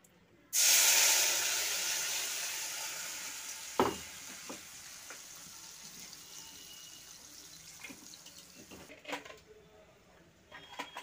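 Chilli, ginger, ground cumin and tomato hit hot oil for a Bengali rui fish rezala with a loud burst of sizzling that slowly fades to a steady fry, broken by a few clicks and knocks of stirring.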